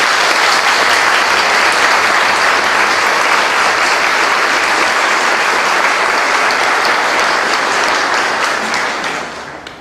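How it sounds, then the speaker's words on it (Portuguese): A church congregation bursts into sustained applause during a Holy Thursday foot-washing Mass, a dense steady clapping from many hands that fills the room for nearly ten seconds before tapering off at the end. "Uma salva de palmas."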